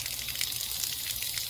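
Tap water pours into a small sample bottle for disinfection byproduct testing, a continuous close hiss and gush of running water with no talking.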